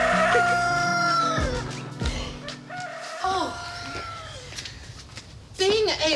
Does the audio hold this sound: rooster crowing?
yes